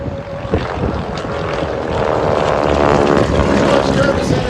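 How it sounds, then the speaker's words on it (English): Harvard, Staggerwing and DC-3 airplanes fly past at the 2019 Abbotsford airshow in British Columbia, a loud continuous propeller drone that builds slightly and holds steady, mixed with wind buffeting on the microphone. "Here comes our Harvards, our Stagger Wing, and in behind,"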